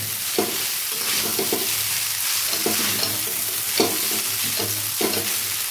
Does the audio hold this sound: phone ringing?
no